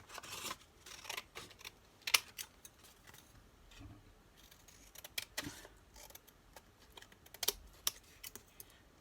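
Scissors snipping around a paper figure cut from craft material for a flower-decorated toy car, a quick run of short dry clicks and snips at close range with brief pauses, no talking.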